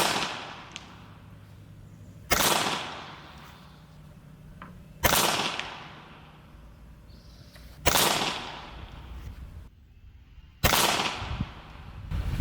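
Four sharp, loud shots from a handmade 1911-style PCP air pistol, each a crisp crack with a short decay, spaced roughly every two to three seconds against a quiet outdoor background.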